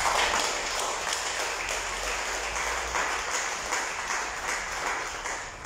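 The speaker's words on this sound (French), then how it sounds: "je vous demande d'applaudir" An audience at a lay apostolate commission conference bursts into sustained applause, a dense and fairly loud wash of clapping that holds steady from start to finish.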